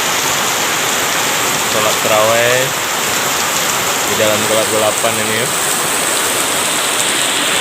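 Heavy rain pours at night as a steady, loud, dense hiss that fills the whole clip, with someone speaking briefly over it twice.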